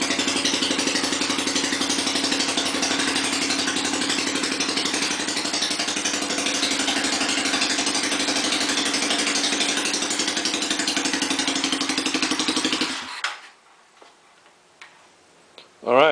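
Small single-cylinder engine of a Kikker 5150 HardKnock 200 minibike idling with a loud, rapid, even ticking putter for about thirteen seconds, then cutting off abruptly, followed by faint handling noises.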